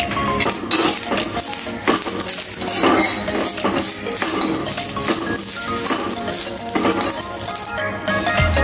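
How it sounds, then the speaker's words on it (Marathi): Curry leaves roasting crisp in a pan for chutney, with steady sizzling and frequent scraping and clinking of a spoon stirring against the metal, close and continuous throughout. "कुरकुरीत असा कढीपत्ता हा भाजून घ्यायचा आहे। असा हलवत राहायचा जेणेकरून हा कढीपत्ता व्यवस्थित सगळ्या बाजूने भाजला जाईल।"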